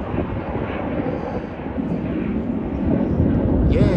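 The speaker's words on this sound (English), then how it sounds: "there's a plane going" Low, broad roar of an airplane passing overhead, swelling gradually louder toward the end with no talking.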